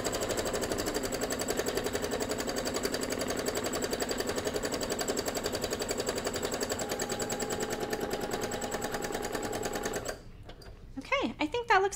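A sewing machine runs continuously for free motion quilting, making a fast, steady mechanical hum and needle chatter. It stops abruptly near the end, followed by a few short bursts.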